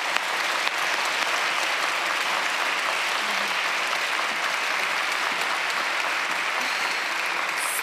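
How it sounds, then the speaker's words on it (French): Sustained applause from a large audience at the Prix du Québec 2023 award ceremony, steady dense clapping throughout with no talking, loud and even from start to finish. "Je pense que ça vaut une deuxième main d'applaudissements"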